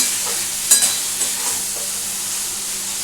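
Fish roe is stirred into frying spice paste for a Bengali roe curry, a steady close sizzle with a sharp utensil tap and a few soft scrapes near the start, then even hissing, no voices.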